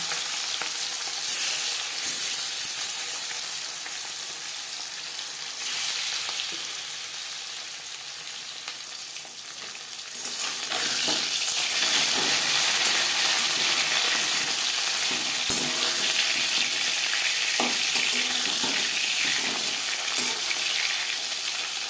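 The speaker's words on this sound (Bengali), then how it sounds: "চার পাঁচ চামচ তেল আমি গরম করে নিয়েছি এবার দিয়ে দেব লবণ হলুদ মেখে রাখা মাছ ও মাছের মাথা" Salted, turmeric-coated shol fish pieces and fish head frying in four or five spoons of hot oil, a soft sizzle that jumps to a loud, dense crackling hiss midway and stays steady, with occasional pops and no voices.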